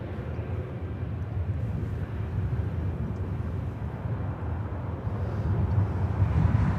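A Boeing 777-300ER airliner takes off at LAX, heard as a steady, broad jet roar that holds throughout and swells slightly toward the end, with no talk over it.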